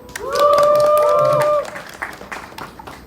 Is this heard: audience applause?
yes